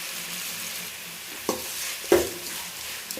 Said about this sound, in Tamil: தக்காளி போட்டு இதே நல்லா வதங்க வந்துட்டு வெயிட் பண்ணுவோம்